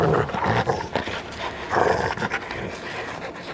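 A dog pants and growls in bursts during a tug game, loud and close, with breathy heaving and rough tugging noises rising and falling across the clip.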